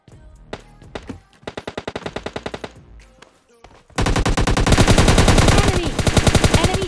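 Automatic weapon fire from the video game PUBG Lite, with sparse single shots at first, then steady rapid bursts, and finally a loud sustained barrage of dense gunfire at close range.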